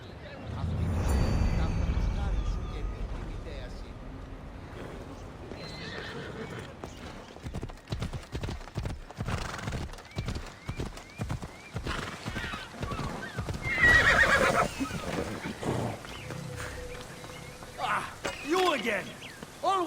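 Horses in Assassin's Creed Odyssey whinny and neigh, with a rapid run of hoof clip-clops in the middle and more whinnies near the end. A voice speaks at times.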